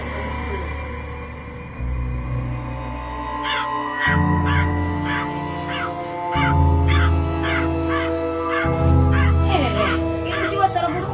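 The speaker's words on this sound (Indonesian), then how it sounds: "Itu juga suara burung tak? Jeleknya mami suaranya. Burung dari mana itu lagi?" A crow caws repeatedly at night in Makassar, a series of harsh calls in a steady rhythm over a droning background with music-like tones, moderately loud and fairly close.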